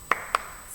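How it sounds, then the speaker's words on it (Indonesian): Two sharp, separate claps from a class doing a rhythmic spirit clap, close and distinct with a short pause between them. "Nah, itu tadi tepuk semangat agar kalian tetap semangat ya."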